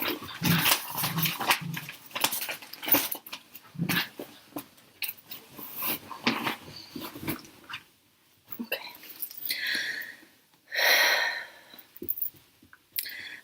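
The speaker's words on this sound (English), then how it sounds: "These dogs are making me crazy." Several dogs indoors growl, whimper and scuffle in irregular bursts, with a few louder, higher outbursts toward the end and short quiet gaps in between.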